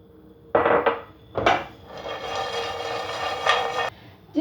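Walnuts tipped into a frying pan to toast, a couple of clattering drops followed by a steady sizzling, scraping rustle as they are stirred, close and fairly quiet.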